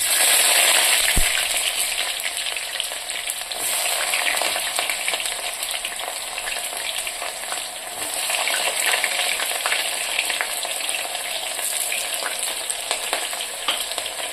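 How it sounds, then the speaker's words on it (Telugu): Onions and green chillies frying in a pan for a Telugu brinjal and potato curry, a steady bright sizzle throughout with occasional stirring scrapes and one sharp clink near the start. "ఈ ఆనియన్స్ కొద్దిగా ఫ్రై అయ్యేవరకు ఉంచాం"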